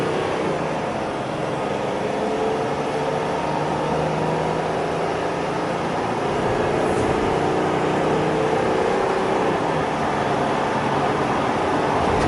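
Inside a Mercedes Sprinter van at full throttle on a test drive, the engine and road roar build as a steady, loud broadband drone with little variation and no talking.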